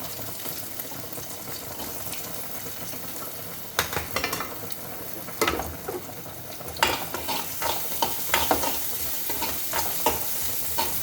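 Chopped onions frying in a pan, a steady sizzle joined by sharp stirring and scraping strokes that grow more frequent toward the end, close and clear with no talk.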